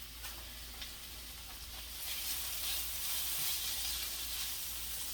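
Shrimp and onions sizzle in butter in a pan for keto shrimp fried cauliflower rice, a steady soft frying hiss that swells slightly midway, with no talking.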